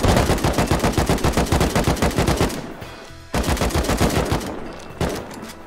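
Rapid automatic gunfire rattles in the video game Rust while shooting something down, a loud, close stream of evenly spaced shots in two long bursts separated by a brief pause, then a short final burst.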